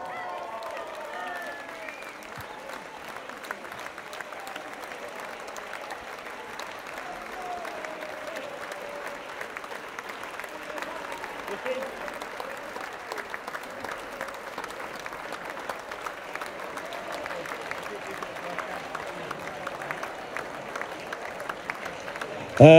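Sustained audience applause greets award winners at a sports club's end-of-season awards night, long and fairly even, with a voice talking over the clapping early on and a louder burst at the very end.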